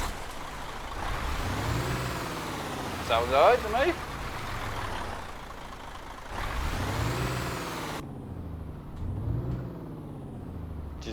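Plain diesel truck engine without an open pipe in Euro Truck Simulator 2 with ProMods, rumbling and revving in several swells, with a hiss of air brakes, while someone talks over it.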